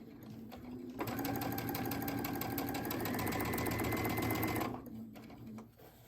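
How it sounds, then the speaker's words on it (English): Sewing machine back stitching along a fabric hem, a fast even mechanical whirr that starts after a second, runs steadily for about four seconds and then stops, with quiet room sound before and after. "So I'm just going to back stitch for a second."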